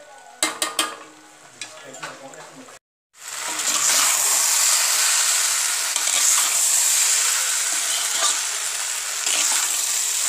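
A potato, carrot and pea curry simmers uncovered on low heat, a steady close sizzle and bubbling after a few brief stirring knocks and clinks, with no voices.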